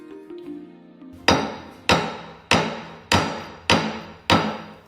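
Ginger is pounded for ginger tea in six heavy, evenly spaced thuds, each a sharp close strike that rings briefly and decays, following a quiet lead-in.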